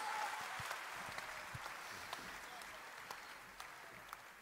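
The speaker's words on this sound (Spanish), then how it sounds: "¡Fuerte aplauso!" Crowd applause at a Liga Bazooka rap battle at Luna Park, a steady wash of clapping that stays fairly even and slowly fades a little over a few seconds.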